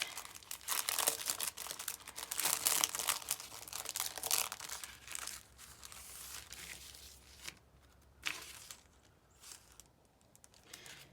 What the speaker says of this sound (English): This is what the carbon paper looks like.